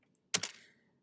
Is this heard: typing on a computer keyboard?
yes